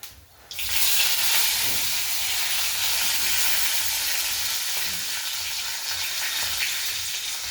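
Curry leaves hit hot oil with cumin while tempering for a homemade matki usal, bursting into a loud, steady sizzle that holds without letup after a brief quiet start.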